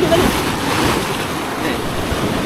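Sea waves wash and churn continuously near a boat during a giant trevally fishing battle, a close, noisy broadband surge with wind buffeting the microphone throughout.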